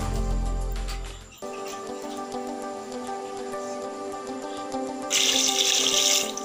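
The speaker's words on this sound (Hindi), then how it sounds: "तो अभी मैं इस भगोने में अंडे डाल लिया, और फिर इसमें पानी ऐड करेंगे।" Water is poured into a pot of eggs for boiling, a steady close pour with a brighter, splashier rush near the end and no talking.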